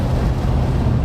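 A 1973 Ford Ranchero driving down the road after a carburetor replacement, giving a brief, loud, continuous low engine and road rumble with wind noise.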